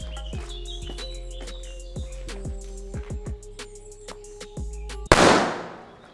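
A Triplex Bolit firecracker goes off on a carpet with a single loud, sharp bang near the end, preceded by fizzing, crackling fuse noise and faint chirps in the background.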